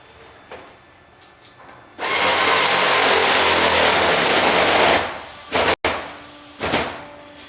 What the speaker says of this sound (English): and in this stage the hinges are applied